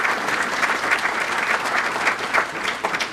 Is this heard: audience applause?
yes